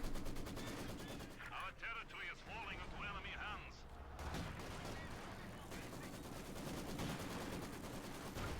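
Gunfire and artillery in the real-time strategy game Company of Heroes 2, with Maxim machine gun and infantry combat: dense rattling bursts and booming impacts run throughout, loud and continuous beneath steady commentary talk.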